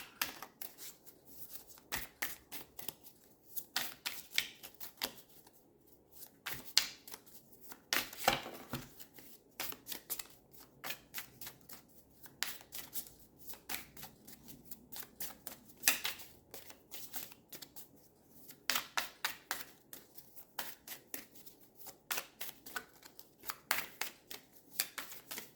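Tarot cards being shuffled by hand during a Taurus reading, repeated soft riffling and slapping bursts in an irregular rhythm, close and fairly quiet in a still room, no voices.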